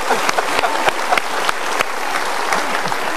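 Applause from an audience at a live motivational talk show, a dense continuous patter of many hands clapping at steady loudness throughout, with no voices over it.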